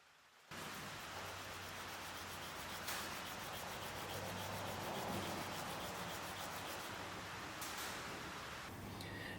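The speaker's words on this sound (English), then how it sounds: "I'll carefully sand it by hand on a machinist block, refinishing and blending it all back together" A Damascus steel Ka-Bar-style knife blade is hand-sanded on a machinist block, giving a close, continuous gritty rasp of abrasive scrubbing across steel for about nine seconds.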